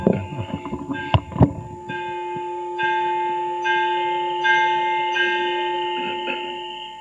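A temple bell at Wat Mon Ruesi in Doi Lo, Chiang Mai, during a Buddhist retreat: a couple of sharp strikes, then long resonant ringing, with several further soft strikes that keep the tone humming.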